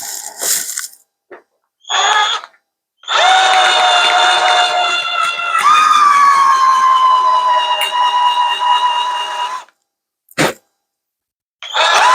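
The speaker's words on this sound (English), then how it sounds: "I just drilled the hole out a little bit more, and that might have actually done it." A power drill enlarges a hole during a CW modification of a Radioddity QT80 radio. Its close, loud motor whine comes first in short bursts, then runs for several seconds and drops slightly in pitch as it bites.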